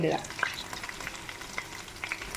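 Steady sizzling from frying in a pan while cooking Kerala-style fish molly, with light stirring scrapes over a constant crackle, close up and no voices.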